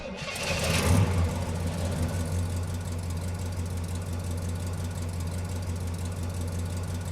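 A synthesized car engine built in Unreal MetaSound hums steadily and low, with a brief brighter rise near the start before it settles into a sustained, even drone.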